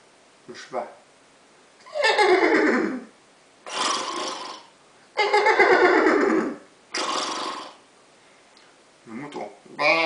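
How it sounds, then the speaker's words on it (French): A horse whinnies and neighs in a run of loud, close bursts separated by brief gaps, with some squealing, breathy and snorting-like tones. "Le cheval."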